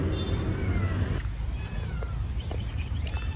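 A stray cat trapped in a well meows a few times over a steady low rumble, with light shuffling steps in the background.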